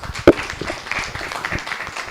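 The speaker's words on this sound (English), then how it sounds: "Let's do a round of applause again." Scattered, fairly light applause from an audience at a scientific symposium on evolutionary genomics, with one sharp nearby clap standing out early among the softer, patchy clapping.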